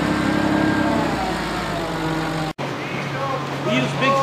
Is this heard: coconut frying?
no